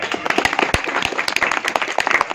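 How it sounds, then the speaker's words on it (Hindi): Audience clapping in welcome at a crowning ceremony in Ramnagar, a dense run of sharp overlapping hand claps close by, steady for a couple of seconds with no talk. "सभी लोगों से अनुरोध है कि आप ताली बजाकर स्वागत करें"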